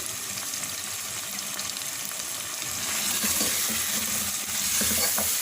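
Green chili paste and korma masala sizzle and fry steadily in a pot of chicken korma, a dense, continuous hiss close by that swells slightly as the mixture is stirred.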